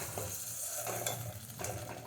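Tomatoes sauté in a pan for a chutney, giving a soft steady sizzle with a few scraping stirs of a spoon, close but fairly quiet and with no voices.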